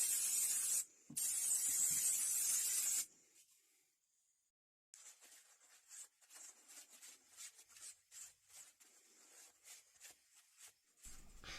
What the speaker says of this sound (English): let's give it a spray now, clear off all those other fluids